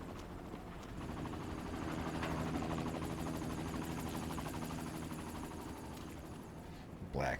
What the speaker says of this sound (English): Black helicopters, the Irachi group is doing their business.